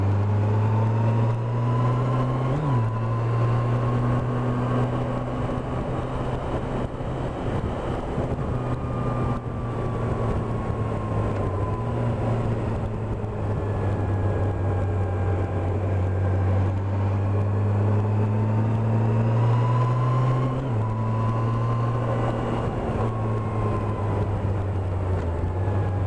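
A Yamaha FJR sport motorcycle ridden at night, its engine droning steadily with gentle rises and falls in pitch through gear changes, backed by constant wind rush over the microphone.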